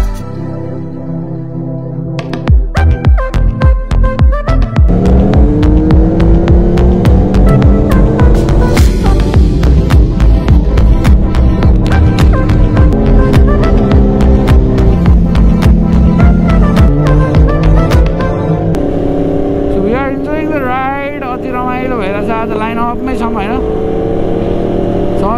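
Motorcycles on a group ride to Wiseman's Ferry roar loud and steady at close range, engines droning with shifting pitch as they accelerate, easing to a lower hum near the end.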